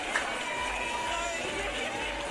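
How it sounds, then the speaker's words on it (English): Large, excited beach volleyball crowd on the sand at Manly Beach in Sydney, cheering and chanting during a gold medal final, a steady dense roar of many voices with no single voice standing out. "the Chile / Australian crowd has just been going off"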